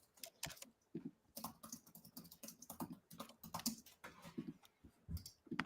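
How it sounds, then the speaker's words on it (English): Rapid clicking of computer keyboard typing, irregular bursts of keystrokes close to the microphone, fairly quiet, with no voices. "I can hear you typing."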